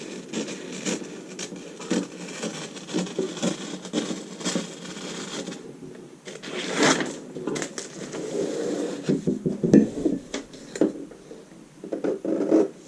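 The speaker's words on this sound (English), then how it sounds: "Cutting up our side seam, our 1/2 inch seam allowance" Scissors cut fabric along a skirt's side seam allowance at close range, a series of crisp rasping, rubbing snips in uneven bursts with quieter pauses between.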